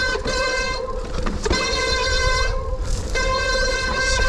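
Squeaky mountain bike brakes on a woodland trail ride, a loud sustained high-pitched squeal in bursts over rolling tyre and trail rumble, with no talking.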